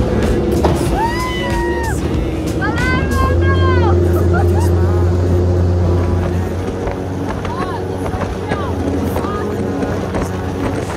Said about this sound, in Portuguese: uma corrida de voadeira em alta velocidade